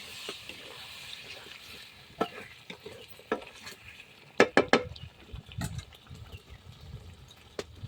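Spiced masala with chopped tomato, cumin, chilli powder, salt and sugar is stirred and fried in a pot for festive mutton, with a steady low sizzle and scattered scraping spoon strokes and metal clinks, a cluster of sharp clanks midway.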